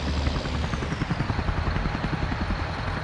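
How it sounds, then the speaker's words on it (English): A Coast Guard helicopter in the Farming Simulator 19 game thuds overhead, its rotor beating in a fast, steady rhythm over a broad engine roar, loud and continuous without talk. "I can hear that Coast Guard helicopter again somewhere."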